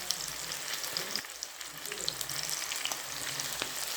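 Chinese pakora batter, spooned piece by piece into hot oil, sizzles and crackles steadily at a soft, close level, with faint stirring clinks and no talk.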